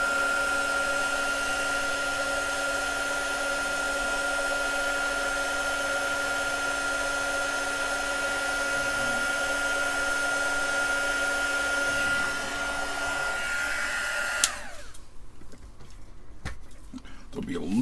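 A heat gun's fan blows steadily while shrinking heat-shrink tubing over an Amiga 1200 power supply upgrade, a loud continuous whir with a tonal hum that runs for about fourteen seconds, then cuts off to quiet clicks and handling.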